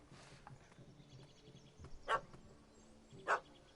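Dog barking in the video game The Witcher 3, two sharp, moderately loud barks spaced about a second apart over a quiet ambient background.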